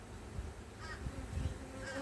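Honeybees buzzing around a beehive during a honey harvest, a continuous close drone with a few louder passes as individual bees fly near.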